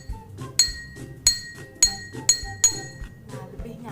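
A glass partly filled with water is struck in a classroom sound experiment, giving five bright, ringing clinks at fairly even intervals, each with a sustained tone that decays, heard up close over a faint background.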